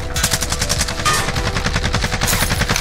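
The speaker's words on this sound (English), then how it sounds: "They're shooting at us." Sustained automatic gunfire in Call of Duty on Rebirth Island, a loud, dense stream of rapid overlapping shots and bursts with no pauses, close and continuous throughout.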